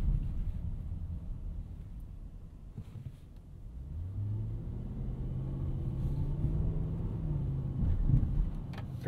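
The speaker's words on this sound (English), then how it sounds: "Very nice progressive throttle response on this GLS." A 2024 Mercedes-Benz GLS580 4MATIC SUV engine while driving, a low steady rumble that rises into a smooth, progressive rev as the throttle is applied, with light road and wind noise beneath.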